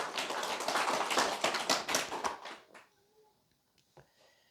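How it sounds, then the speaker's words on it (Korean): Church congregation applauding together, dense rhythmic clapping for a few seconds before it quickly dies away into near silence with a few faint scattered sounds. "박수요, 박수, 박수, 박수."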